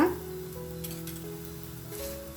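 Lachha paratha of wheat flour sizzles softly in oil on a pan with a steady low hiss, while a voice talks over it.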